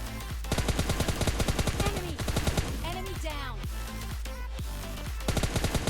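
Gunfire in the battle-royale game PUBG Lite, with rapid bursts of loud shots that stop briefly and then resume in dense volleys, while someone talks over parts of the exchange.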